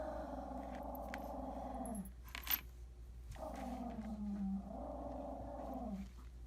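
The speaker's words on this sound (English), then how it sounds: "And there's my dog." A dog growls in two long, low rumbling stretches separated by a short pause, close and fairly quiet, with a brief clatter in between.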